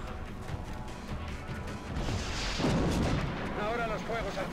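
Missile explosions in XCOM Enemy Unknown rumble as a dense, continuous roar of blasts and debris, building in the middle and holding loud to the end, with a few faint tonal game effects near the close.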